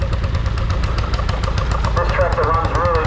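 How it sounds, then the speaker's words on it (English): A vintage single-cylinder tractor engine with one piston, conrod and crankshaft runs steadily at a practice day for tractor pulling, its low, even thumping continuous and close, with someone talking over it. "This tractor runs really nicely."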